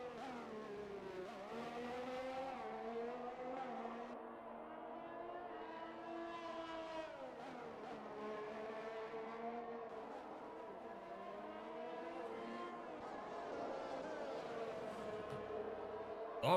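Race cars lapping Bahrain in a racing video game whine and rise and fall in pitch as they accelerate and shift, a continuous engine drone heard steadily throughout.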